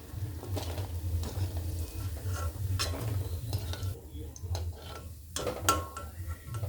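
Palm fruit fritters (taal bora) frying in hot oil at home, a steady low bubbling sizzle with occasional clinks of a utensil stirring and turning them; a voice is faintly heard in places.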